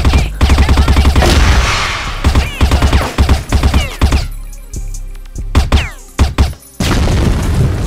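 Explosions and heavy gunfire in a combat video game, with a dense run of loud booms and bursts in the first four seconds, then sparser blasts and cracks, and a final loud burst near the end.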